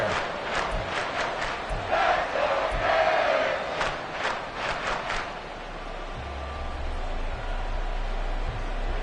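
Stadium crowd roar from a Madden NFL football broadcast during a tense one-score game, a steady wash of distant cheering with scattered shouts and claps, plus a low rumble that swells in the second half.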